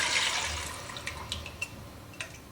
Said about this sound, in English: Now I'm going to pour in my all-time favorite broth brand